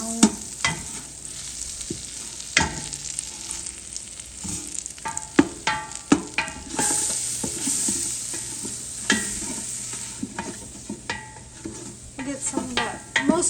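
Butter melts and is stirred into a roux in a pan, a soft steady sizzle broken by repeated close scraping and clinking strokes of the utensil, with no one talking.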